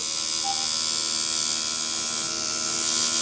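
Steady electric buzz of a tattoo machine running continuously while shading, a constant close hum with no talking.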